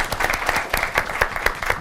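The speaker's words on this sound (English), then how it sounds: "please give me an" Audience applause at a Stanford seminar on scaling social impact through technology, a steady burst of many hands clapping close by for nearly two seconds with no talk over it.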